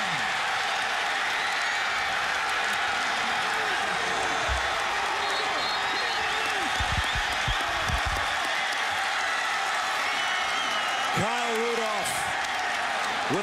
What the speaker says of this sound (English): A stunned Purdue crowd.